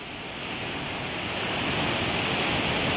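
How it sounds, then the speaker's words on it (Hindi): Floodwater after heavy rain in Dharamshala rushes down a road between hotels, a dense continuous roar that swells slightly, loud and close, with no voices. "होटल्स के बीचों बीच सड़क से पानी बहने लगा"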